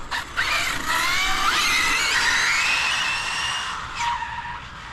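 An electric RC truck capable of 80 mph brakes hard and skids, giving a loud, sustained high-pitched tire squeal with rising and falling whines over several seconds, ending in a brief second screech.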